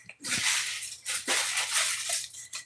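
Dumplings drop into hot oil in a pan and fry with a loud, hissing sizzle that swells in several bursts, close by and with no talk.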